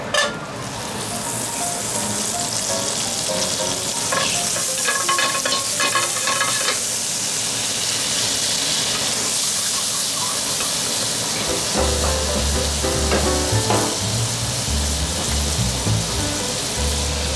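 Butter melting in a pan for oyster cream stew, a loud steady sizzle and hiss with occasional stirring scrapes, close and continuous, low rumble joining near the end.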